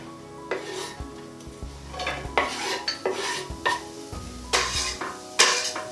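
Wooden spoon stirring and scraping onions and garlic in a frying pan, with repeated clattering strokes against the pan and a faint sizzle underneath.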